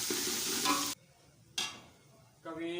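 Ginger garlic paste hits hot oil in a frying pan and sizzles loudly, stirred up close in bursts that cut out abruptly between stretches of frying.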